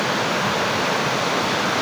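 Sinulong Falls waterfall near Bulao Cold Spring pours in a steady, dense rushing roar, close and unbroken, with no voices over it.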